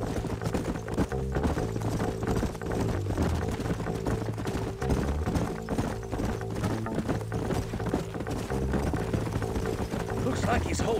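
Horses gallop in a video game, a dense, rapid clip-clop of hooves running continuously, close and loud, over a low droning backdrop of music and rumble.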